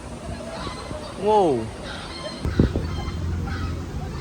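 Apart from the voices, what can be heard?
ducks and chickens on a city farm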